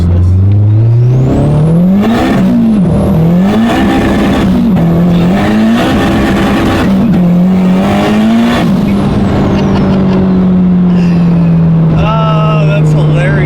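A 600 whp Honda Civic on a dyno revs hard and loud, engine pitch climbing and dropping through repeated shifts before settling into a sustained high whine, with people talking over it.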